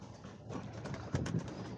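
White Chinese pigeons kept as breeding pairs in a loft coo in low, rounded, repeated calls, close and steady, with a soft background hiss and no talking.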